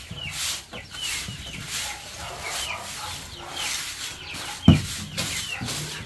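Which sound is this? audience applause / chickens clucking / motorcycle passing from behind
chickens clucking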